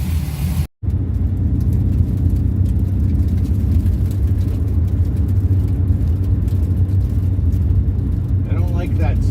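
An LS V8 engine in a Porsche 944 idles with a steady, loud low rumble, briefly cut by a dropout near the start, while a voice speaks over it.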